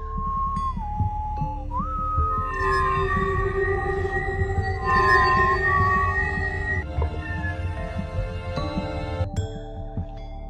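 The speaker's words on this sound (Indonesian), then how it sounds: "Tapi di sini Joe langsung kaget ketika Sam bersiul." A tonal whistle glides and holds sustained notes over a dense, murmuring background, with a low rumble running throughout.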